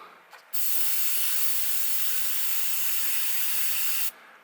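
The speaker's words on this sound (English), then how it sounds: "let's spray up one of these mat boards" A steady Grex Genesis XA airbrush hiss sprays onto mat board continuously for about three and a half seconds, starting and stopping abruptly, with a brief faint click just before it begins.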